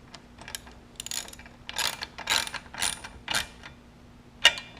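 A hand ratchet with a 13 mm deep socket snugs down an exhaust bolt on a Triumph bobber, a series of quick clicking ratchet strokes in short bursts, fairly close and alone.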